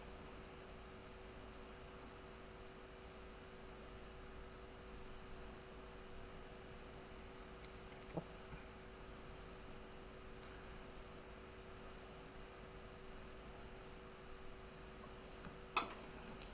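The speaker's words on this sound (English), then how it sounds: "I'm gonna hook up the output of the square wave generator into the input of the buzzer" A high-pitched electronic buzzer driven by a square wave generator beeps in regular on-off pulses, about one per second, over a faint steady hum, with a couple of sharp clicks.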